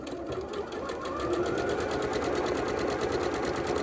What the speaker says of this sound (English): I am just going to do a stitch along this long edge